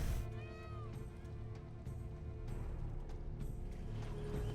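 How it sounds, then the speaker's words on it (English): Peacocks in the Witcher 3: Blood and Wine game give several cat-like meowing calls, rising wails over a steady background of game music and ambience, moderately loud. "I have no idea what kind of sounds peacocks makes, but I'm pretty sure they don't sound like freaking cats"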